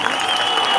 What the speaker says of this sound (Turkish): Ateş Bey'e de bir alkış alabilir miyim ben lütfen